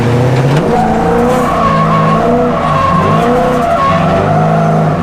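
A car doing donuts, tires squealing and skidding continuously while the engine revs hard near the limiter, loud and close.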